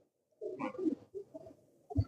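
Pigeons coo nearby in soft, low throaty phrases, a rolling call followed by a shorter one and a final deep note, with no talking.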